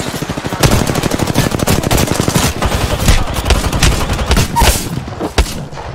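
Rapid automatic gunfire from an Apex Legends-style battle royale shooter, played on Lifeline, rattles in dense, loud bursts for several seconds with crisp sharp cracks, close and continuous and heard on its own.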